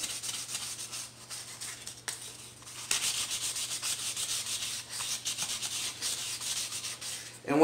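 Wet sanding an Infiniti Q60 wheel with 500-grit sandpaper to strip the clear coat: steady, close back-and-forth rubbing strokes with brief pauses, no talking.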